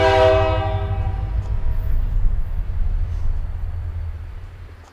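A train pulls into a railway station, its horn sounding loudly at the start, then a steady rumble of rail cars rolling past that slowly fades.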